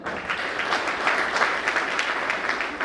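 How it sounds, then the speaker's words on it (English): Steady applause from a student audience at a college tech event, dense continuous clapping at a constant level throughout. "give a huge round of applause for them"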